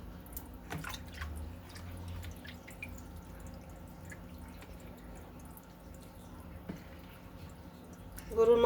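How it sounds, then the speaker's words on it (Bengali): Water draining and dripping off freshly washed beef pieces in a kitchen, soft irregular drips and trickles at close range over a low background hum, with a louder splash near the end. "গরুর মাংস সবচেয়ে ধুয়ে সুন্দর করে পানি এভাবে ঝরিয়ে নিলে"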